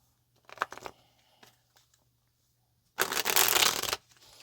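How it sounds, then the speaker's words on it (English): Tarot cards being handled on a table, a few soft riffles and slaps early on, then a loud, dense one-second burst of shuffling, close and without talk. "Let's go ahead and get some more tarot out on the table."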